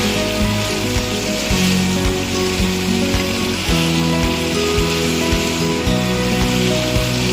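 Potatoes fry in hot oil in a pan with a dense, steady crackling sizzle, close and loud, punctuated by occasional stirring knocks and scrapes throughout.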